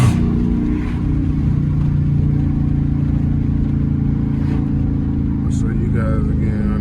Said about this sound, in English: Hit the gas and downshift.